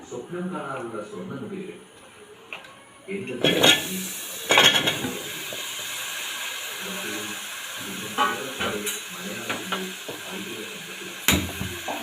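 Chopped pumpkin, tomato and okra are stirred in a pot for sambar, with metallic spoon clinks and scraping against the pot under a hissing background, as a person speaks over much of it.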